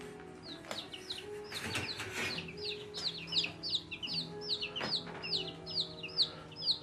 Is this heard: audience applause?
no